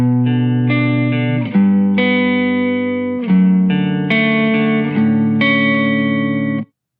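Real electric guitar loop of chopped, sustained chords with effects and reverb, played loud and steady for about seven seconds with several sharp chord changes, no talking.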